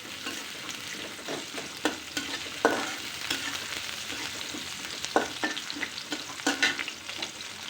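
Greens cooking in a pan with chopped garlic and onion give a steady close sizzle, broken by sharp clacks and scrapes of stirring every second or two.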